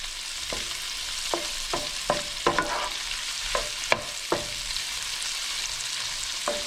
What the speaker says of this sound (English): And you can see the speckled trout sauteing in there.